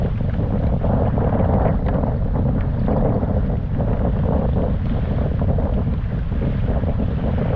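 Wind and choppy lake water around a fishing kayak during a storm make a constant, loud rush with wind buffeting the microphone and water sloshing underneath. Nobody speaks.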